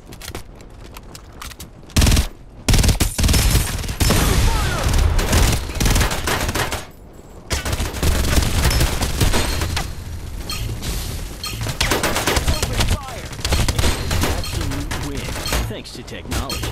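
Rapid automatic gunfire from the video game Farlight 84, with dense bursts and shots nearly continuous for most of the stretch, broken by a brief lull, under occasional game voice lines.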